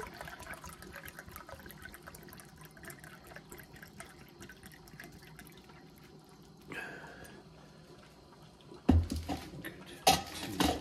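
Water poured into a German 24-hour ration bag, about 250 ml, a low continuous trickle and splash for most of the clip, ending with a few louder rustles and knocks of the bag being handled.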